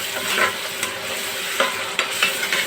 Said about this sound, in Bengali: একটু ভালো করে ভেজে নেবেন। আদাটা একটু ভেজে নিয়েছি।